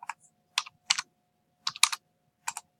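Keystrokes on a computer keyboard entering a wall height, in short clustered bursts of two or three taps spread across the moment, close and fairly quiet with no voice.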